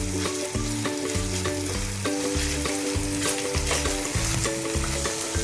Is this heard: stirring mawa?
yes